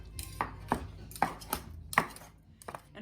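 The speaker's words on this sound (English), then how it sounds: "I can chop all my ingredients, move them over, and just keep chopping" Knife chopping ingredients on a big cutting board for a spaghetti pie, about eight sharp, close knocks in an uneven rhythm with no talk.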